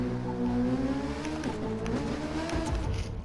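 A BMW S1000 motorcycle in The Crew 2 racing game accelerates hard, a loud continuous engine whine with rising harmonics and brief gear-shift dips, steady and close with no talk over it.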